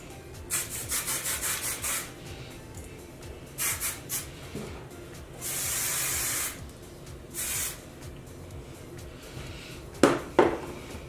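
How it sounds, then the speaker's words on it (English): Short hissing spray bursts from an aerosol can of hairspray onto hair, several quick puffs then one longer steady spray, with light rubbing and handling noises between them. "So I'm going to spray a layer of this to lock it in place."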